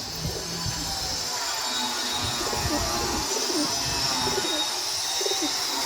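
Pigeons coo in low, soft, repeated calls nearby over a steady hiss of background noise, with a faint rumble underneath.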